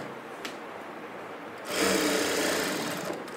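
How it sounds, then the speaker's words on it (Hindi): A sewing machine stitches kurti fabric in a quiet room, a soft rapid mechanical whirr that starts partway through and runs steadily to the end at close range. "नेक स्टिचिंग कटिंग करने के पहले इसमें एक स्टिच डालेंगे"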